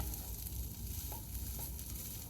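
Mashed potato and carrot mixture stirred in a pan, with quiet, continuous soft scraping and faint sizzling and a few light spoon taps, no talking.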